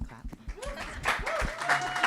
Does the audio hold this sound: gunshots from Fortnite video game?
no